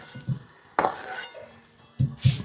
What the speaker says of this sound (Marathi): तर याला मस्त आता खलबत्त्यामध्ये टाकते आणि जाडसर बारीक असं याला चांगलं कुटून घेते